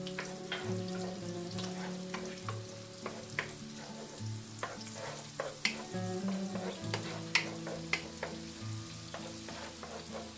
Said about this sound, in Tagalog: isusutay natin yung ating garlic